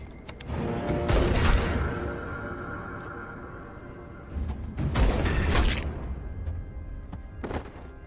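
Gunshots fired at a psychopath in a horror film scene: a few loud, sharp blasts, one burst early, another midway and a shorter one near the end, each trailing into a rumbling decay, with no talk.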